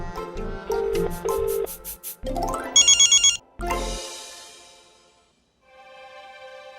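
An outgoing phone call on speakerphone: a sequence of dialing tones, then bright ringback chimes repeating in short bursts, followed by a quieter tonal ring near the end, close and clear with no talking.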